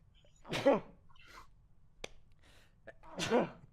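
Two sneezes, one near the start and one near the end, with a few small sounds in the quiet between them.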